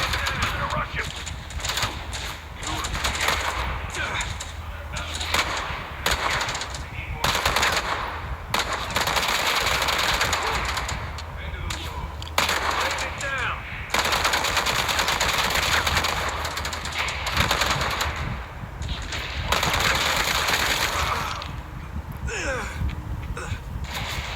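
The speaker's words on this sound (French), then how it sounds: "C'est le sniper" Gunfire from a sniper in the Gangstar Mirage video game, with repeated shots and bursts of fire over constant game noise, while a voice exclaims and talks throughout.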